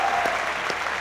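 Studio audience clapping on a Pakistani cricket comedy talk show, a brief, even burst of dense applause filling the whole moment.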